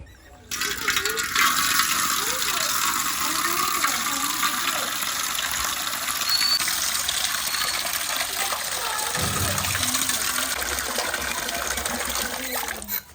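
Tap water running steadily while fish is washed for fish curry, a continuous gushing splash with small shifts in the flow throughout.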